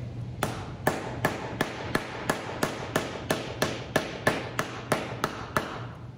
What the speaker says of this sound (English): So I'm gonna take a hammer and tap that